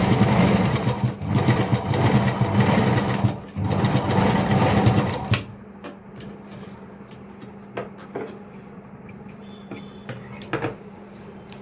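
A sewing machine runs a steady, loud stitch round the edge of a kids' lehenga for about five seconds, then stops; faint handling clicks and a low hum follow.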